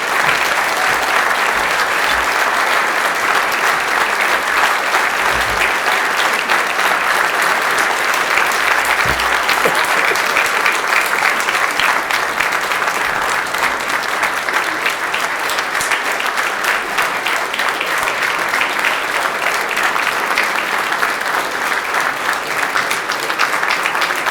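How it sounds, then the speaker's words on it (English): An audience at a hall of fame enshrinement ceremony applauds an award winner with loud, sustained, dense clapping that never lets up. "Let's give a round of applause for Davian Joyner."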